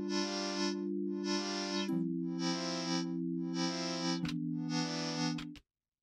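An Audulus synthesizer patch plays a buzzy, harmonically rich tone whose waveform is swept by a sine LFO, pulsing in five regular swells with a pitch drop partway through before cutting off abruptly, clean and with no talking.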